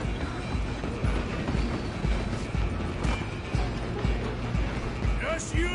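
A train rolls steadily along the tracks in the Western game Red Dead Redemption II, a dense, continuous rumble with rhythmic clickety-clack of wheels on rail joints and a faint metallic squeal near the end.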